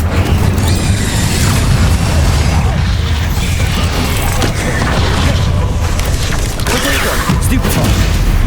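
Incendio and Confringo spell blasts go off in Hogwarts Legacy, loud booming bursts and crackling impacts layered over dense, rumbling combat noise, with a voice speaking at points.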